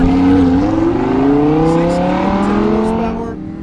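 A Lamborghini Huracan LP610-4 with 610 horsepower and all-wheel drive accelerates hard on a race track, its engine note rising steadily and loudly through the gear before tapering off.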